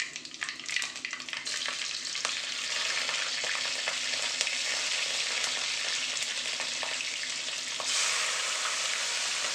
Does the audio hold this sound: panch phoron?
yes